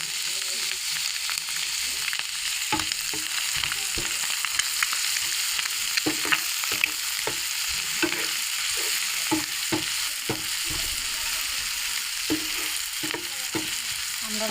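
Chopped tomato fries in a pan while noodles are being cooked, producing a steady, fairly loud sizzle broken by repeated scraping and clinking strokes of a spatula, with no talking over it.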